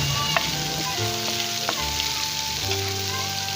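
Garlic and ginger fry in hot oil with a loud, steady sizzle. Stirring clinks and scrapes sound close by, and a faint tonal hum runs underneath.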